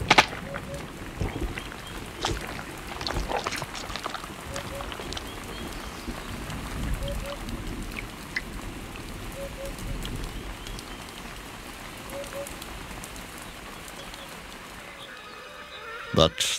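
Rain patters down during a drought, a soft, steady hiss of drops falling on the surface with scattered louder spatters, fading toward the end.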